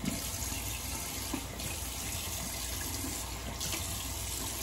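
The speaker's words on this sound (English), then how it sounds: "Like cold water rinse." Cold tap water runs steadily from a faucet, rinsing a 1953 Gillette President safety razor after a shave; a close, continuous splashing stream with slight changes in flow and no talking.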